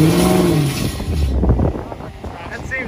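A Dodge Hellcat riding on horse-and-buggy wheels revs hard while doing burnouts in town, a loud, close engine roar that surges and then eases off over a few seconds.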